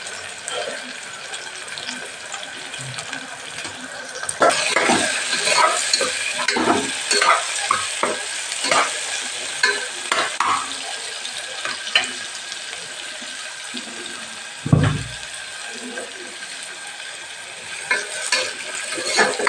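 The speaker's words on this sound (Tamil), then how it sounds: "வெங்காயம் நல்லா கொஞ்சம் ரோஸ்ட் ஆகும்." Onions and a green chili fry in a pan, a steady close sizzle with repeated scraping and clinking of a spoon stirring, plus one sharper knock partway through.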